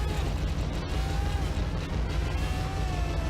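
A big in-game explosion in Minit rumbles as a loud, sustained low-end roar that fills the whole stretch, steady and dense with no pauses.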